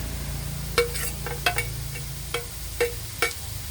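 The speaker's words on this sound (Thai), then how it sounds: "ตอนนี้เอากระเจี๊ยบกับพริกสดนี้นะคะ ลงเลยค่ะ" Green okra and fresh chilies tossed with chicken in oyster sauce in a pan, with a soft background sizzle and a handful of sharp, spaced spatula scrapes and clicks.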